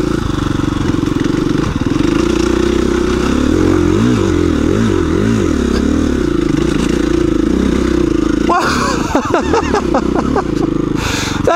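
A KTM 350 EXC-F dual-sport dirt bike climbs a rocky run-up, its engine loud and close, revving up and down with wavering pitch, then bursts of scraping and revving near the end.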